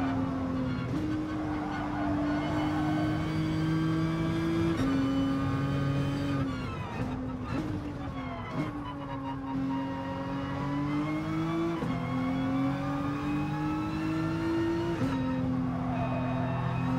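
Nissan GT-R race car in Gran Turismo Sport holding a steady, loud engine drone through a lap, pitch rising and dropping with gear shifts and throttle, continuous and close with no talk.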